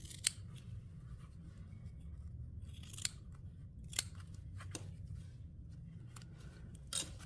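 Scissors snip through fabric for a small tote bag, a handful of crisp, close cuts spaced irregularly over a quiet background with no talk.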